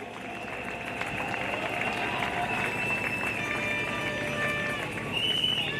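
A congregation at a patriotic worship service in the DRC applauding, producing a continuous wash of crowd clapping and noise that stays fairly even throughout, with musical tones running underneath.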